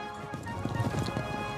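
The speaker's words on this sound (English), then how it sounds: "We rode back to Philadelphia on horses" Horses' hooves clip-clop steadily on a ride back to Philadelphia in 1774, a quick irregular patter of several animals at moderate distance, alone with no talk.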